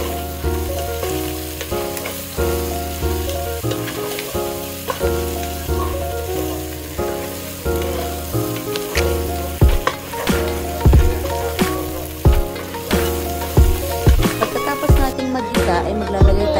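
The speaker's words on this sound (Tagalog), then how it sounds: "Igigisa rin natin ito kasama ng ating mga spices." Fried pork belly sautés with onions and spices in a pan for pork humba, giving a steady, loud sizzle. Stirring scrapes recur throughout, and background music plays alongside.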